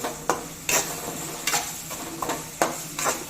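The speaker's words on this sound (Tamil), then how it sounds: "இது 300 கிராம் வெங்காயம். இது நல்லா சுருளாக வதக்கி எடுத்துக்கலாம்." Three hundred grams of small onions sautéing in oil, a continuous close sizzle punctuated by a handful of scraping stirs at irregular intervals, with no voices.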